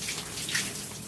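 A shower runs in a steamy bathroom at Pride Lodge guesthouse in Blackpool, a continuous hissing spray of water, close and even throughout, with no one talking.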